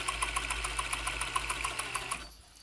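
A vintage Janome Combi DX 502 sewing machine edges a piece of fabric, its rapid, even mechanical chatter and motor drone running steadily for about two seconds before cutting off abruptly, close and alone.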